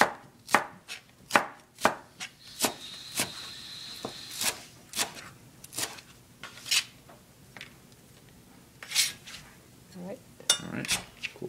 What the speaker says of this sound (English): So you're cutting these scallions diagonally,